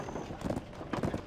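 Donkey hooves trotting in the video game Black Desert Online, a faint, quick, uneven clip-clop of hoofbeats under a soft game background.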